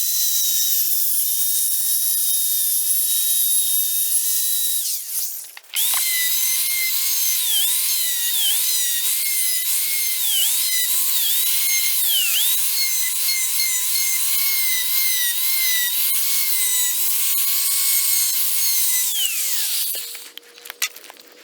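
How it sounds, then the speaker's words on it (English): Small circular saw set at 30 degrees cutting bevelled edges on wood strips for a dovetail log cabin, a loud close whining motor through two long cuts separated by a short break. "I just set my little skill saw on 30 degrees, and I just kind of go down crookedy on the edges"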